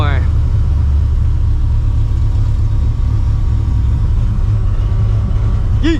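A supercharged New Edge Mustang GT with a 700 hp setup rumbles loudly with a deep, steady low growl that holds near and unbroken from start to finish.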